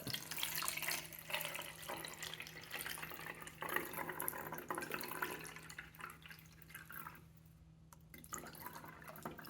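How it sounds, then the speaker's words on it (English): Water running through a funnel into the tank of a Ryobi P28140 ONE+18V compact chemical sprayer, a quiet steady trickle and splash that thins out and briefly drops away near the end. "I recommend a funnel. And then just as easy as that, it fills right up."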